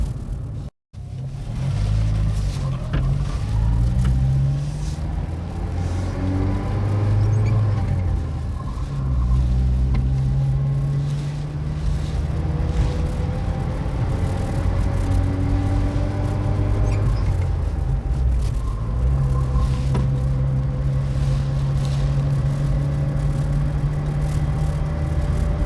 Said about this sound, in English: There's the 82 Saab 900.